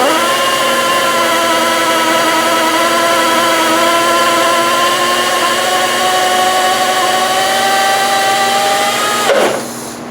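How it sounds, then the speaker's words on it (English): A power drill bores out the door lock actuator on a 2007-2011 Honda CR-V, giving a loud, steady, high whine for about nine seconds before it winds down and stops. "When you're drilling here, you got to be extremely careful."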